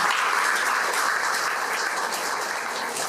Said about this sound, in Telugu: వారి గట్టిగా చప్పట్లు కొడదామమ్మా